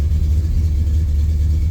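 A 1981 Ford Mustang Foxbody engine idles steadily at about 1100 rpm, a continuous loud low rumble with no speech over it.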